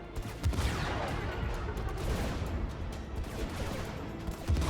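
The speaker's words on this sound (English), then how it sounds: "Look at the blast off the cannon on it." Cannon blasts and explosions rumble continuously through a real-time strategy battle in the game Sanctuary Shattered Sun, as dense, overlapping booms and crackling fire at a moderate, distant level with no talk.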